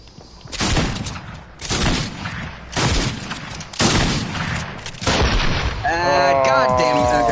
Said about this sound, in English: I got shot, I guess.